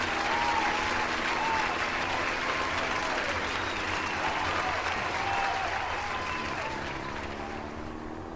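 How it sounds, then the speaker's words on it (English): Large crowd applause used as a sound effect, a dense continuous roar of clapping that holds steady and then tapers off slightly toward the end, with no talking over it. "a huge crowd should be applauding everything you just said"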